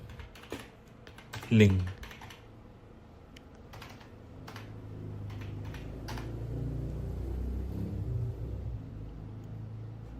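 Keys clatter on a computer keyboard in irregular taps and short runs, under someone talking in Indonesian, with a low steady hum rising in the background.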